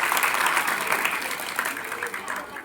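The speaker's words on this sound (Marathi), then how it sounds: "मग आता तुमच्यासाठी स्वतःसाठी पहिल्यांदा एकदा टाळ्या घ्या" Students in a career guidance session clap for themselves, a lively burst of applause that begins at once, stays full and close, and thins slightly toward the end.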